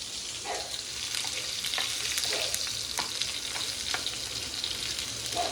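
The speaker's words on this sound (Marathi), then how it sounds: "सो मास्टर शेफ आता हिरवी मिरची टाकतायत." Green chillies frying in a pan of hot oil for Goan-style clams, a continuous close sizzle broken by repeated light stirring scrapes, with no talking.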